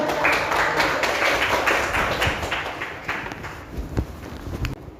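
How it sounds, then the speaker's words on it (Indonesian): Students in a classroom break into applause, a dense run of many hands clapping that stays loud and steady for several seconds before thinning toward the end. "Tepuk tangan."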